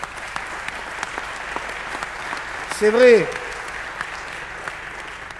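Audience applause at a political rally in Saint-Laurent-du-Var, a steady wash of clapping running under a man's speech, with a brief louder burst midway.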